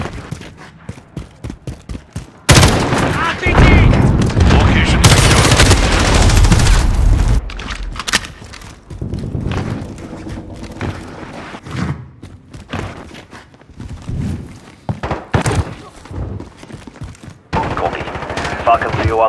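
Automatic and single gunshots from Call of Duty: Modern Warfare (2019) multiplayer, loud and near, in rapid bursts with brief pauses, some heavier thuds, and short radio-style voice callouts over the firing.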